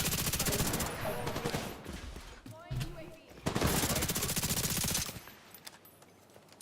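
Rapid bursts of shotgun-like spread weapon fire in a video game, loud repeated shots in two clusters with a pause and a quieter tail, mixed with speech.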